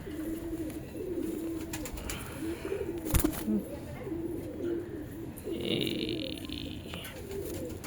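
Domestic pigeons kept in a loft in Allahabad coo in low, rolling, repeated phrases, fairly close, over a steady background hum with scattered rustles and a brief clatter partway through.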